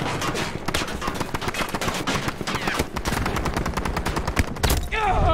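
Dense, continuous gunfire in the shooter Battlefield 2042, rapid automatic bursts crackling close and loud throughout with no let-up, ending in a sharper flurry of shots.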